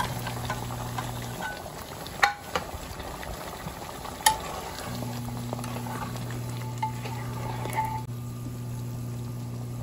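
Potatoes going into a pot of simmering beef curry with yogurt gravy, aloo gosht salan: soft stirring and bubbling with a couple of sharp clinks over a steady hum of cooking, no talk.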